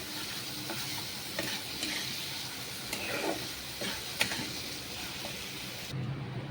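Water poured into a hot pan of egg curry hisses into a steady, low sizzle that carries on evenly, with a few faint clinks and small pops over it.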